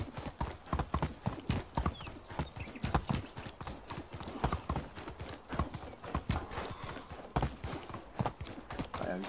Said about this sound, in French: j'ai un cheval, je dois pouvoir aller vite maintenant